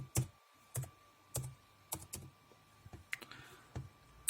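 A computer keyboard is typed on in a quiet room, with a slow run of separate, distinct key clicks and a brief flurry of quicker presses near the end.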